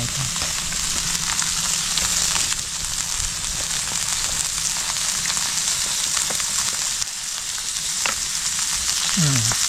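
Masala-coated fish frying in oil in a pan outdoors, with a loud continuous sizzle and crackle throughout and small scrapes, no talking.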